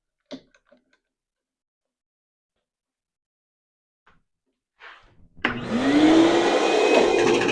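A workshop vacuum switches on after a few scattered clicks and quiet knocks, then runs as a loud, steady whine with a rising spin-up tone through the final two seconds.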